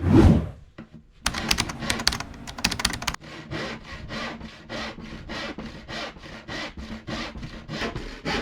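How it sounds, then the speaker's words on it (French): Handsaw cutting through a wooden plank for a kitchen floor, first a few rough strokes, then a steady run of rhythmic back-and-forth rasping strokes, close and loud, no voices. "je suis en train de découper la première planche qui va venir dans le fond"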